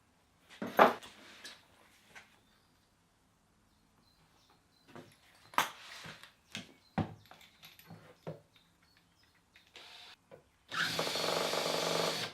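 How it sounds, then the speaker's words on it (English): A power drill with a countersink bit works mounting holes in a transparent router base for a Trend T4 router, heard as short scattered whirring bursts and handling clicks, ending with a louder sustained drilling run. "We just need to countersink those out."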